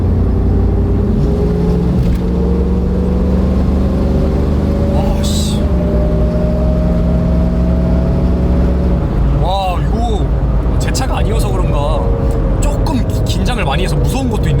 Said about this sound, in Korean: 가속을 해보도록 할게요.